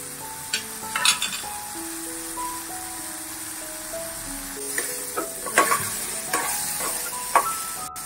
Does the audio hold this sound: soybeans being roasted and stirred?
yes